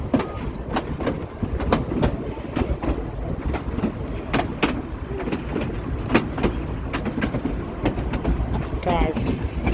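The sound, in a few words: train rolling on railroad tracks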